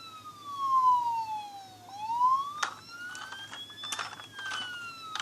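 A toy police car's electronic siren wails in sliding up-and-down tones, then switches to a choppier pattern with clicks and handling noises, fairly close and alone.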